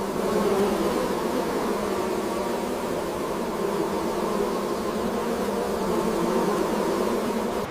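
Dense, continuous buzzing of honey bees inside a hive, a steady droning hum of many workers and larger drones around the queen, loud and close with no voices.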